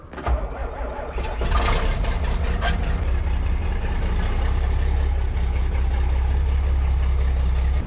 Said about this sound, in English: Got to get this tractor out of the way.